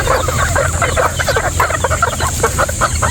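Several red chickens cluck continuously in a busy, overlapping chorus, fairly close, with a steady background hum underneath.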